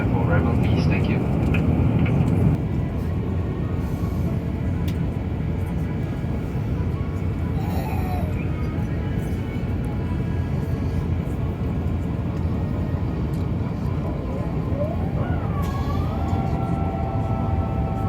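A Singapore Airlines airplane cabin hums with a loud, steady engine and air roar during the landing approach, with faint chimes and tones on top and spoken announcements partly over it.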